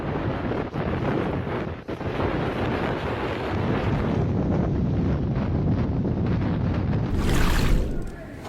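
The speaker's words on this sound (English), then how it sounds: "A severe snowstorm attacked Keflavik, Iceland on February 11th, with wind gusts reaching over 100 kilometers per hour." Strong wind gusts roar without a break through a severe snowstorm in Keflavik, Iceland, buffeting the microphone loudly and close, with a harsher blast near the end.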